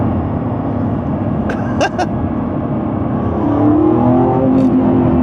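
Lamborghini Revuelto in Corsa mode pulling from 30 to 60 in fourth gear, a steady loud engine drone from inside the cabin with a brief mid-clip dip and a rising note toward the end.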